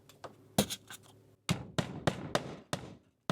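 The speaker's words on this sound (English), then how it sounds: "I want to put a nail about every 8 inches along that top nailing seam." Hammer strikes on nails into vinyl shake siding on a gable end, a couple of light taps followed by a quick series of sharp close blows in an uneven rhythm.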